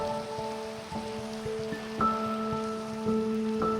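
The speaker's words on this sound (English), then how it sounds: "So in true swamp fashion, it's raining." Rain falls steadily in a Minecraft swamp biome, a soft continuous patter beneath a gentle looping game music melody of sustained tones.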